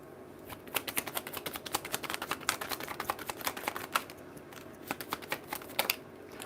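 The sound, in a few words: tarot cards being shuffled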